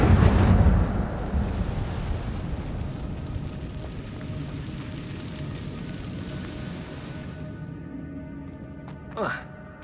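An Incendio fire spell blasting in Hogwarts Legacy: a loud whooshing burst at the start that roars and slowly fades over several seconds, followed by a brief rising magical swish near the end.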